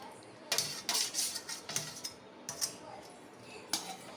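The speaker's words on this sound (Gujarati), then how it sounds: "હવે બટેકી એડ કરી દઈશું બધી જ" Potato pieces tipped into a cooking pan for a Gujarati bhungara bateta dish, giving a series of sharp clinks and scrapes against the pan, several distinct bursts spread over a few seconds, close and fairly clear with no talking.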